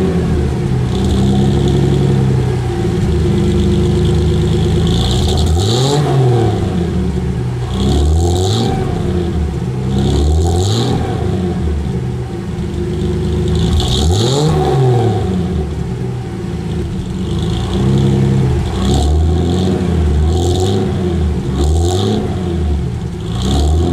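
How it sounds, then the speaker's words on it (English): A Mercedes-Benz 300 SL Gullwing engine runs loud and close with a single exhaust, swelling through several sharp revs over a steady idle, with no talking. "Let's see how the car sounds."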